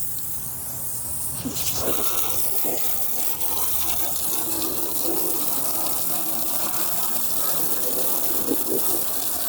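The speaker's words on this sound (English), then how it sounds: "we're gonna take our water hose again" A steady gushing spray from a water hose runs throughout, close and continuous, with occasional splashes and knocks against a car's surface.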